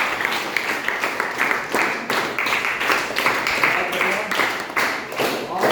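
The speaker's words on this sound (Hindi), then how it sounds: "उनके लिए तालियां हो जाए।" Audience clapping for artists who made clay toys and puppets, a steady dense patter of many hands that carries on throughout at an even, moderately loud level.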